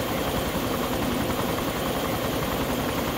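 Armed helicopter flying at night in the video game DayZ Overpoch, a steady loud rotor and engine drone filling the whole stretch with no voices.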